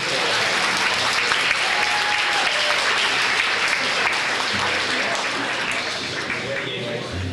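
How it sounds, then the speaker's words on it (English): Steady, continuous audience clapping at a Ste. Genevieve, Missouri high school winter sports banquet as a wrestler is called up, a dense wash of hands that holds evenly and eases slightly toward the end. "Zach, come up here, buddy. Zach Layton, give him a round of applause."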